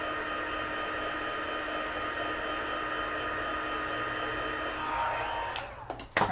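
A hair dryer blows steadily and close by over a watercolored card for several seconds before cutting off, leaving a few brief handling clicks at the end.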